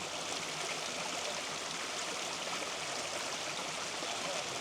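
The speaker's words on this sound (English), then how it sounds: "This is the brook." A woodland brook beside a quarry trail flows steadily, a continuous broadband rush and babble of water heard up close and loud with no break.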